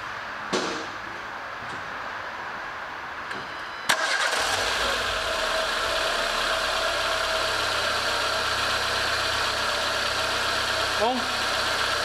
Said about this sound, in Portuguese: agora a gente vai ali e vai dar partida nesse carro e escutar como é que ficou o som do motor